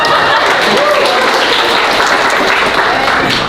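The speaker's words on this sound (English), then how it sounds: "let's give it a round of applause for our shuffling skills, guys" Applause from a dinner audience at a college international evening, a steady wash of clapping filling the room at close range, with some faint voices and a brief whoop mixed in.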